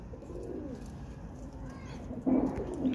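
Golden Kamagar pigeons coo softly in low, murmuring calls from close by, with a louder coo rising near the end over a steady background hum.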